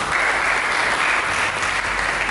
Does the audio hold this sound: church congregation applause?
yes